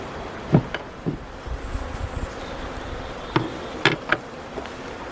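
Honey bees buzzing around a hive box during a nuc installation, a faint steady hum beneath a few soft knocks and thumps of hive equipment.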